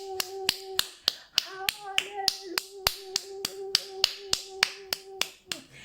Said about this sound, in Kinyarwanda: Reka tumukomere amashyi.